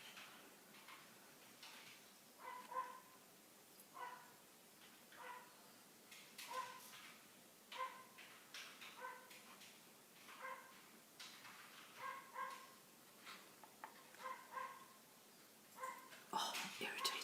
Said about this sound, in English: Oh, irritating dog.